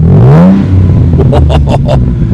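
A 2013 Morgan Roadster Sport engine with a stainless sport dual exhaust revs up and down close by with a deep rumbling growl, followed by a few quick throttle blips.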